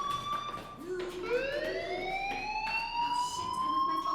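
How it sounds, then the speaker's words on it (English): Fire alarm ringing in the Life is Strange video game, a steady wailing tone that climbs in pitch and holds, sounding continuously and fairly loud throughout. "Hey, do you hear that fire alarm?"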